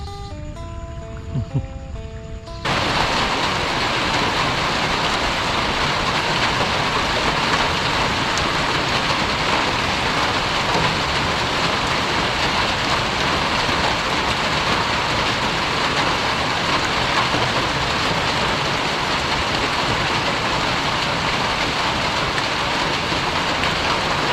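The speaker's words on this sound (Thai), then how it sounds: "ฝน" Heavy rain pours down outdoors at a flooded rice-field fishing spot, a loud, steady hiss that starts abruptly after a few seconds of music and continues unbroken to the end.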